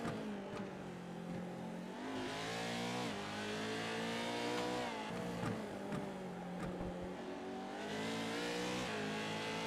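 Race trucks in the iRacing game roar around the Long Beach street circuit, a dense blend of engines revving and rising in pitch, continuous and loud, with no pause in the layered motor noise.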